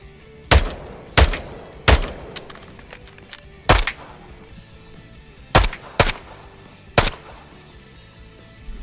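Sidearm shots ring out in a VR shooter game: seven sharp, loud reports at irregular intervals, some close together and others spaced several seconds apart, with a quiet background between them.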